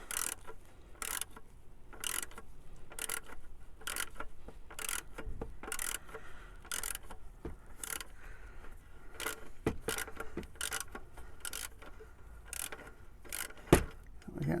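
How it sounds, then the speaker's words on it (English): Socket ratchet turning the engine oil drain plug on a Citroen C3 Picasso 1.6 HDi, giving rhythmic rapid clicking bursts repeated about a dozen times, close up with faint workshop noise behind. "you're going to need a 21mm socket and a new crush washer, and it should just come undone like that"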